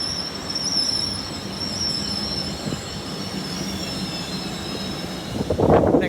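A train at Doncaster station gives a steady rumble with thin, high wheel squeals holding overhead, then a louder rough burst near the end.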